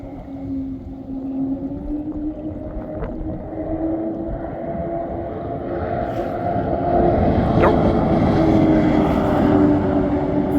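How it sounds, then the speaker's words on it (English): A go-fast speedboat with big outboard motors drones steadily across the water, its roar building as the boat draws nearer toward the end. "here comes a Go Fast. Looks like he's got one big outboard on it."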